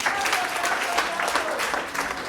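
A group gives a short, lively burst of applause at a mental health donation event, with dense overlapping claps and faint voices underneath.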